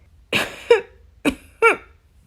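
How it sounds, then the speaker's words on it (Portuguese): Two light coughs in quick pairs, each a short soft burst followed by a quieter catch, spaced about a second apart, close by and otherwise quiet. "Depois deu uma leve tossida."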